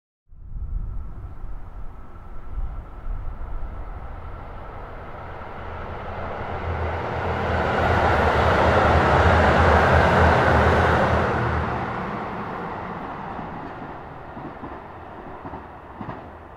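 JR Kagoshima Line Limited Express Yufu train passing, a rumbling approach that builds to a loud, broad roar at its peak, then fades gradually as it moves away, with no voices.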